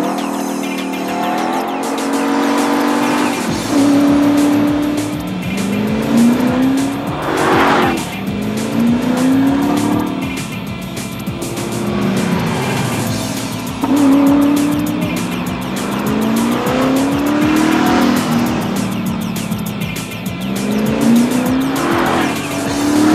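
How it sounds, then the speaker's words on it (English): A TVR V8S does donuts on a track, its V8 engine roaring and rising in repeated revving sweeps while the tires squeal and skid continuously, loud and close for the whole stretch. "we sent Mike and his car to do some more donuts out on the track."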